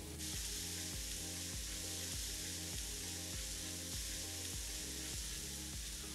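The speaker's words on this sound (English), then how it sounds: "we're gonna let these cook in this butter" Mushrooms searing in butter in a pan, a steady loud sizzle with a faint repeating rhythmic pulse underneath, no voices.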